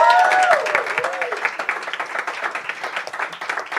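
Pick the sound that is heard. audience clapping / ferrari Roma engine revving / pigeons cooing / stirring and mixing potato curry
audience clapping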